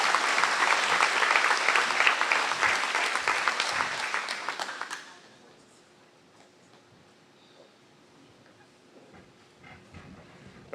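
Audience applause at a county fair distinguished citizen award ceremony: loud, dense clapping for about five seconds, then it drops away into quiet room tone with faint scattered sounds.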